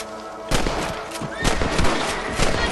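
Rifle shots at rabbits in Red Dead Redemption, ringing out in the open over a dense, continuous bed of outdoor game ambience, with several loud cracks spaced irregularly across a few seconds.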